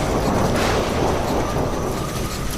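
A loud, dense roaring rush of stormy wind, constant and full-bodied, like a heavy gale blowing without pause, a cartoon storm sound effect.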